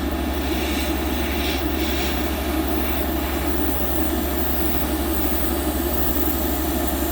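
A Gaahleri Mobius 0.3mm airbrush sprays paint at full throttle, a constant hissing rush of air with a low steady hum underneath, unchanging throughout.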